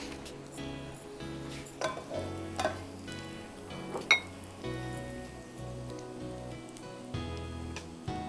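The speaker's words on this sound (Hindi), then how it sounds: "अब हम तेल गरम करेंगे, ठीक है, और उसमें हमको ये मसाला फ्राई करना है।" Ground spice masala frying in hot oil for a peri peri kebab gravy, a soft crackling sizzle with occasional spatters and stirring clicks, close but quiet, with a low tonal hum underneath and no talk.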